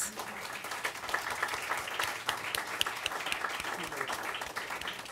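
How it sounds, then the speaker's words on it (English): Steady applause from an audience honoring fellow leaders at a gathering, dense clapping filling the whole stretch at moderate level without a break. "So please give them a round of applause."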